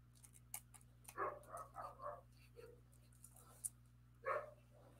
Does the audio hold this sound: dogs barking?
yes